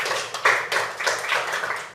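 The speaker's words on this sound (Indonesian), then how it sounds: "Berikan tepuk tangan sekali lagi." A crowd claps in bursts for a couple of seconds, uneven and fairly close, with no talking over it.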